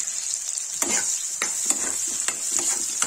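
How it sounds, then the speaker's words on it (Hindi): Onions sizzle and fry in hot oil in a kadhai while being stirred, a steady loud hiss broken by several sharp scraping stir strokes, with no voices. "ये तेल निकाल लेंगे, इसमें प्याज डाल देंगे।"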